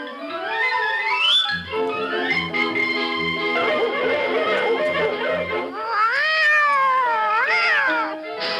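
A white kitten meows repeatedly in a radio drama sound effect, its high, wavering cries loud and close, rising and falling in pitch over a bed of orchestral music.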